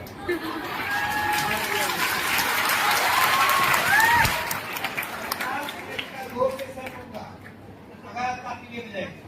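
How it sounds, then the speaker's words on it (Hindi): Audience applause at a coaching institute anniversary celebration, a broad sustained clatter of many hands clapping for several seconds, with crowd noise and voices mixed in before it thins out near the end. "आप जितना ताली बजाएंगे उतना जल्दी मैं जाऊंगा"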